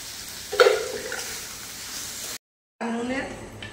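Chicken mixture sizzling in white oil on a hot tawa, a steady frying hiss with a brief clatter near the start, cut off by a short gap, then sizzling resumes.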